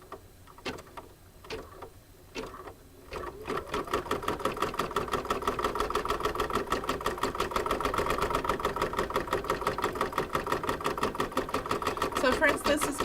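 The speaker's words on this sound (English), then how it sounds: "So we're going to put it back onto the machine, keep our red thread there, and this next bit is going to do a pretty satin border" Sewing machine running steadily with red thread, stitching a dense satin border around a fabric apple appliqué on an embroidery coaster, a fast even mechanical chatter after a few short starting bursts.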